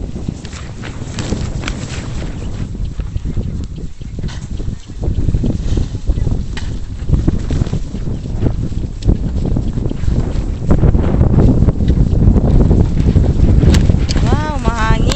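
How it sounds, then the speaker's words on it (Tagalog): Strong wind buffets the microphone across an open melon farm field with plastic mulch, a loud continuous rumble with gusts that grow stronger toward the end, while people talk over it. "Kasi lakas ng hangin."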